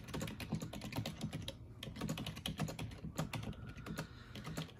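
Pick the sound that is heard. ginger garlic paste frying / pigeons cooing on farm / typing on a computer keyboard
typing on a computer keyboard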